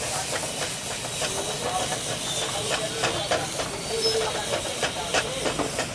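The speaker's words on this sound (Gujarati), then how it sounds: "જોરદાર મસ્ત વઘાર કરી દીધો છે" Spices sizzle hard in hot oil as a street cook tempers vagharelo rotlo at an Ahmedabad food stall, a steady loud hiss with crackles and clatter running all the way through, with no talk.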